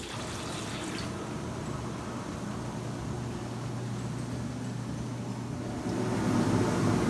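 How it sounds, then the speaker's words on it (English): Jacuzzi whirlpool jets run steadily, circulating bleach water through the tub's interior pipes with a constant low churning hum and watery rush that swells louder near the end. "Letting this run for about 10 minutes will allow the bleach water to clean out the interior pipes"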